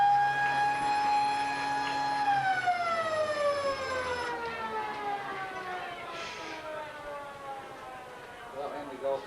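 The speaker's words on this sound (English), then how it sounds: "the siren's about to sound" A long, loud stadium siren ending a football quarter wails steadily, then its pitch slides downward as it winds down over several seconds, with crowd noise beneath.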